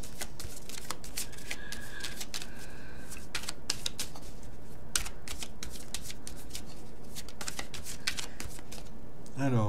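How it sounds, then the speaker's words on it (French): Tarot cards shuffled by hand, a dense continuous run of crisp riffling and flicking with no gaps, close and fairly loud, ending with a brief low thump near the end. "je fais tout de suite le tirage avec le tarot."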